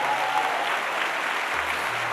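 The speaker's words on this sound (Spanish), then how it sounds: "ese aplauso tiene que ser más fuerte para el Señor." Steady applause from a church congregation during a Spanish-language sermon, a continuous wash of clapping at moderate level for the whole stretch.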